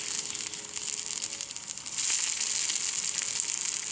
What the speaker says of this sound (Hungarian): Hát a hús az tényleg szinte pillanatok alatt át sül ebbe a jó forró.